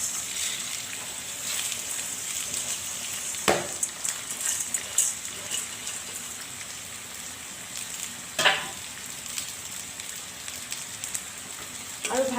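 Green chillies, washed rice and lentils go into a hot pan of oil for Assamese-style khichdi, giving a steady close sizzle with two sharper bursts as ingredients drop in.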